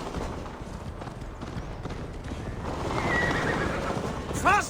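Hoofbeats thud in a steady gallop in the video game Assassin's Creed: Valhalla, building in intensity, then a horse lets out a sharp whinny at the end.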